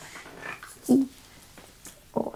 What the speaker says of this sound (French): un petit chien qu'on garde pendant 1 mois, qui est beaucoup trop mignonne